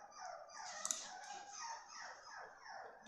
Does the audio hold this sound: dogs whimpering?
yes